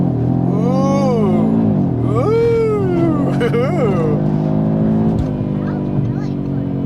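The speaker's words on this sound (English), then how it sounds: "you can really hear that 5-cylinder" An Audi RS 3's five-cylinder engine pulls hard from a launch-control start, its loud, steady drone climbing in pitch through repeated rising sweeps as gears change, heard from inside the car under excited exclamations from occupants.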